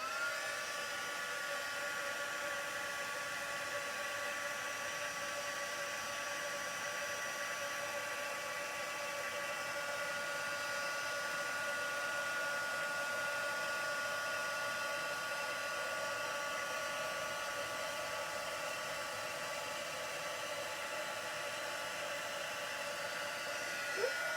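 Steady, continuous whooshing of a heat tool blowing hot air onto the back of a card at constant strength, a droning hum with no pauses or voices.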